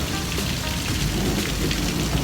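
Steady rain pours outdoors during a thunderstorm, a dense, even hiss of drops hitting surfaces that fills the whole short stretch without voices.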